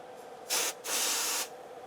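Two bursts from an aerosol spray can aimed at transistors inside a Pioneer SA-6700 integrated amplifier under repair: a short hiss, a brief pause, then a longer sustained spray, close and crisp against a quiet room.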